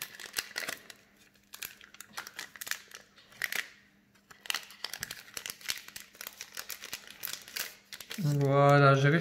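A Pokémon card booster pack being opened slowly, a close series of foil crinkles, small tearing rips and rustling handling, with a voice briefly speaking at the very end.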